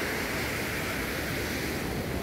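Sea waves at Bucana beach in Nasugbu, Batangas, a continuous loud wash of surf with wind-like hiss, no distinct breaks, close and dense throughout.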